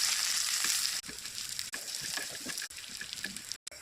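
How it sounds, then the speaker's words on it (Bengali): Onion and garlic fry for a tempering for mashkalai dal with fish, a bright continuous sizzle and crackle close by, briefly dipping a few times, with no voices. "সম্বাসের জন্য পেঁয়াজ রসুন ভেজে নেব।"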